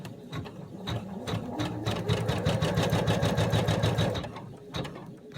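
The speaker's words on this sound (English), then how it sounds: "our next step will stitch the lines to mark where our flaps need to go" Sewing machine running steadily as it stitches marking lines across a fabric toy, a continuous close mechanical whir with a fast needle rhythm, briefly slowing at the start and end.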